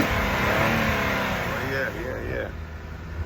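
Engine revving on a 2013 Nissan Skyline 370GT fitted with a performance air intake, a loud sustained roar that drops off near the end, with people talking over it.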